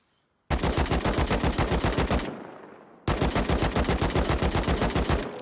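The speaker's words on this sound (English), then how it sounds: "Do a little bit more shooting." Loud automatic gunfire from the Rust video game rattles off in two long sustained bursts separated by a short gap, close and dominant with no voices.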